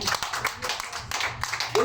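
A church congregation claps for God during a Spanish-language sermon, a dense, steady burst of applause mixed with voices for about two seconds.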